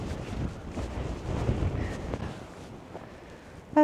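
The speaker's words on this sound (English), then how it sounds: "Oh, it's very windy and cold." Strong, cold wind buffets the microphone in South Australia in a steady rumbling roar, gusting louder and softer, ending with a sudden sharp tone.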